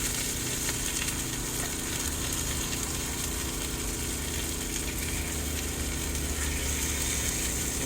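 Thin steaks fry in a pan inside a truck, a continuous crackling sizzle over the low drone of an idling engine, steady throughout with no talking.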